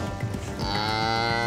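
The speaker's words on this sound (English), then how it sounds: "Try telling that to a 600 kilo cow." A 600-kilogram dairy cow, restrained for a suspected milk fever case, gives one long, loud low moo that rises and holds, close up, with no talk over it.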